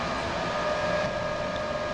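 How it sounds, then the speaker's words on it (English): The train engine in Train Simulator 2015 restarts itself, a steady low rumbling hum with a faint tonal whine, heard in-game with no voices. "I believe that noise is the engine restarting itself."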